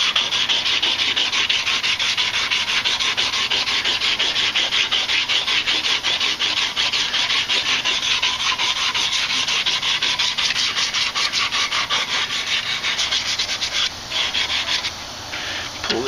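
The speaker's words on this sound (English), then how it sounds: "this is where I'm going to take my sandpaper and clean it all up, smooth it all out" Sandpaper rubs steadily across a wooden strop handle clamped in a vise, a close, continuous rasping scrape in quick back-and-forth strokes that eases slightly near the end.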